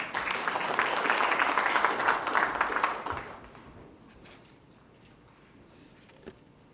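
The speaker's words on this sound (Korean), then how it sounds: "큰 박수로 맞아주시기 바랍니다" An audience at a Democratic Party gathering of local government heads applauds to welcome a speaker, the clapping loud for about three seconds before fading into quiet room noise with a faint knock near the end.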